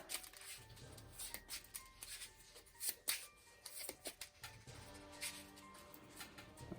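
A deck of cards is shuffled by hand during a solo tabletop game of Legendary Encounters Alien, with quiet close riffling and scattered papery snaps and taps, no talking.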